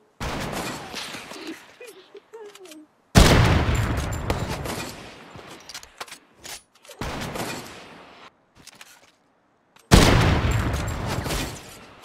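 Repeated bursts of video-game gunfire, including shots fired through a wall, come in loud dense volleys separated by brief gaps, with quieter stretches of in-game sound between them.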